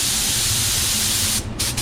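A 3M Performance spray gun lays down a solid white base coat at around 20 psi, giving a loud, close, steady hiss with a brief dip near the end and no talking.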